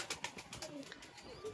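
Pigeons in a breeding loft give soft, rolling coos close by, several overlapping calls in under two seconds, with faint background rustle.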